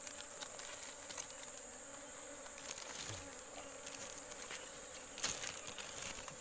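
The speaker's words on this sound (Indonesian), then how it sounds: "Tawon sayang." Asian honeybees (Apis cerana) buzz around their hive during comb harvesting in a dense, steady drone close by, with occasional louder passes as individual insects fly near.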